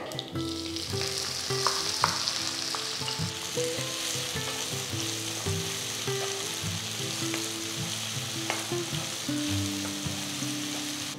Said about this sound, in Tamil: இப்போ நான் இதில் ஒரு பெரிய வெங்காயம் பொடியை நறுக்குனது அதை சேர்க்குறேன்